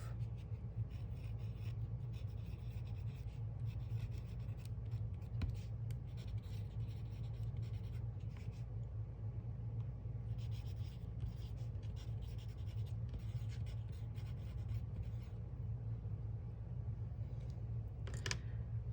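A pencil scratches and rubs across the paper of a small journal in soft, continuous strokes, close and quiet, over a low steady room hum with no talking.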